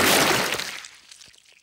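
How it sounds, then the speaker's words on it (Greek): A cartoon splash of muddy water thrown onto a car lands as a loud, bright burst that quickly fades into a few faint trailing drips and patters. "η Πέπα πέταξε όλο το λασπόνερο πάνω στο αυτοκίνητο"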